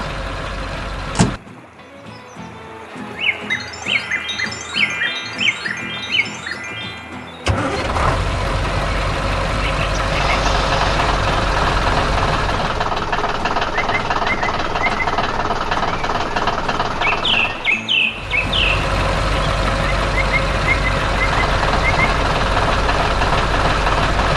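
A tractor engine starts up and then runs continuously with a heavy, rough, knocking rumble, loud and close, with occasional higher chirps in the background.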